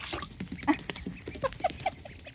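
Pekin ducklings give a string of small, high squeaks and peeps, several short calls spaced irregularly and heard close up with no talking.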